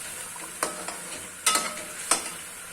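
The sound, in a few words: yogurt frying and being stirred in a pot for chickpea curry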